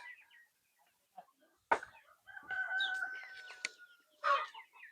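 Desi country chickens on a village farm cluck and crow nearby in a few scattered bursts, with one long crow rising in the middle and short calls before and after, no talking.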